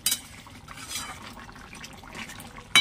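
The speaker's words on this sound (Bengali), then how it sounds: "সজনে ডাঁটা আর কই মাছটা দেওয়ার পরে একটু ফুটিয়ে নিয়েছি, ঢেলে দেবো।" Koi fish curry cooked with drumsticks is poured from a pot, giving a short, close liquid pour, with sharp metal clinks at the start and end.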